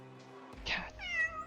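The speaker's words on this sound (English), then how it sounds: "Cat." A cat meows in a video game scene: one drawn-out, fairly close meow, then a second rising meow shortly after, with no talking.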